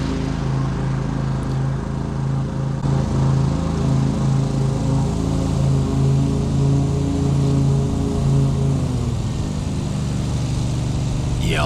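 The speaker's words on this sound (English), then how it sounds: "Then just mowing it up real good here." A lawn mower runs steadily while cutting grass, its engine droning loud and close for the whole stretch, with a brief shift in pitch near the end.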